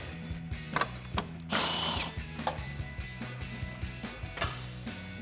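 A socket wrench on an extension works 10 mm grille bolts loose on a 2014-2015 Silverado 1500, with repeated close ratcheting clicks, bursts of quick spinning and a brief rattling clatter near the middle.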